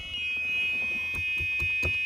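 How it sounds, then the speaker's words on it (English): A Triton bass boat's alarm sounds steadily and close, a continuous electronic tone with faint knocking and handling noises underneath. "All right, alarm's working great now."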